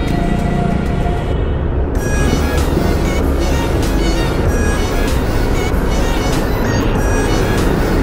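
Steady, loud road traffic noise heard from inside a car stuck in heavy city traffic in the Philippines, with constant engine and road rumble and a broad hiss throughout.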